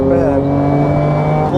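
An Acura NSX pulls away and accelerates. A loud, steady engine note holds close by for under two seconds.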